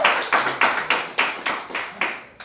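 A small audience at an NJ PASE gathering claps for two presenters: about eight or nine distinct, evenly spaced hand claps, close and fairly loud, with no talking.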